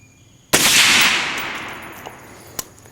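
A single loud rifle shot from a 6.5 Creedmoor Night Stalker Precision AR-10 at a shooting range, a sharp blast followed by a long fading echo and a small distant tick.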